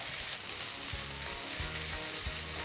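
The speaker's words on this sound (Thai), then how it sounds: "ผัดให้เข้ากันดีครับ" Rice is stir-fried in a pan with black pepper and the juices from a pork chop. A loud, steady sizzle runs throughout, broken by about three dull knocks and scrapes from stirring, with no talk.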